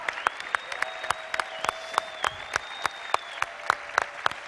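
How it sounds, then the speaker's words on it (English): Applause for the Founders Council at an Amway 60th anniversary meeting, heard as a sparse, uneven patter of claps with a sustained tone running underneath. "Keep cheering."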